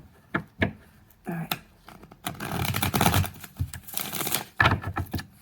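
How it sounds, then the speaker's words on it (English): Tarot cards are shuffled by hand, giving crisp papery riffles and soft slaps in uneven bursts, close and fairly quiet. "Just do 1 more shuffle and get to it here."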